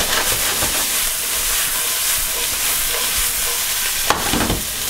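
Potatoes fried into Bratkartoffeln in a pan give a steady, close broadband sizzle throughout, with a brief louder crackle or clatter near the end.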